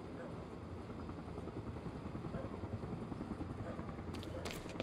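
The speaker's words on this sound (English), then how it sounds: "Better get inside before the chopper spots me." Helicopter in the video game Quantum Break, a continuous rumbling rotor drone holding steady and fairly loud throughout, with speech mixed in.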